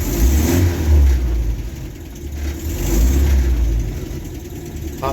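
1968 Land Rover Series IIa 88 engine with a little choke, started in neutral, turning over and running with rough, loud revving surges and a rattling idle close by.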